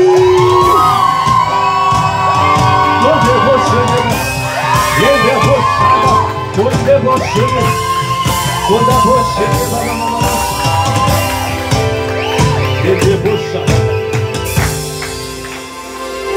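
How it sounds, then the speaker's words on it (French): A congregation at a worship gathering shouts, whoops and cheers loudly, with a sustained roar of many voices and music playing throughout. "Est-ce que tu peux pousser de cris?"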